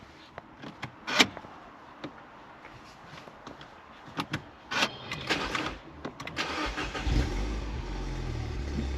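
A Mini Cooper fitted with a decat exhaust pipe cranks and fires up after a few clicks and knocks, then settles into a loud, rumbling idle close by, with no talk.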